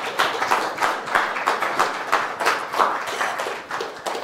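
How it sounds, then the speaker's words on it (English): An audience at a talk on the NHS crisis claps in steady, dense applause that continues for several seconds with no break. "So can I have a round of applause?"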